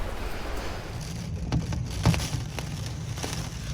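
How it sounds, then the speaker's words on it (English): Hurricane Ian's rain beats against a house window as tropical-storm-force winds arrive in the early morning. The patter is steady and hissing, with a few sharper drop impacts and a low rumbling underneath, heard from indoors. "I'm sure you can hear the rain hitting the window."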